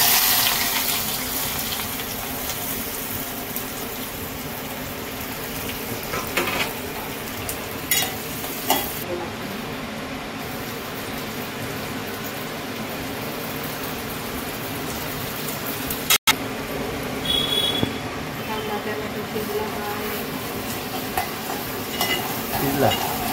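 Onion frying in a pan with bay leaf, spices, cardamom and star anise, a continuous loud sizzle with occasional stirring scrapes, steady throughout with no talk.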